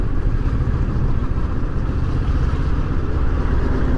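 Engine of a 2018 Kawasaki Versys 650 ABS Tourer motorcycle in third gear drones steadily and loudly, close up, with rushing wind noise and no clear speech.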